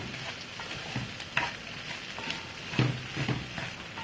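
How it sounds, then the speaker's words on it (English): Rice and mixed vegetables stirred together in a pan for shrimp fried rice, a steady soft sizzle and frying hiss with scraping stirs, a few louder clanks of the utensil against the pan, heard up close. "I'm just gonna combine the rice and the mixed vegetables together."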